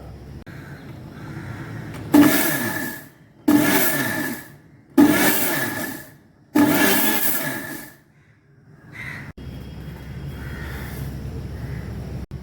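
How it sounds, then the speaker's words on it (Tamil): Mixer grinder pulse-grinding sugar and cardamom, four loud whirring bursts of about a second each separated by short pauses, followed by a lower continuous hum. "கொஞ்சம் ஒரு பல்ஸ் மோடில் கொஞ்சம் கோஸாகவே அரைச்சி எடுத்துக்கலாம்"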